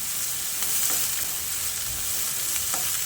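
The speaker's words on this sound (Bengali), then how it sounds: "পেঁয়াজটা দিয়ে ফোড়নের সঙ্গে ভালো করে নেড়ে চেড়ে মিশিয়ে নিচ্ছি।" Finely chopped onions sizzle in hot oil with spice tempering as a spoon stirs them, giving a steady frying hiss with a few soft scraping stirs, close up and with no talking.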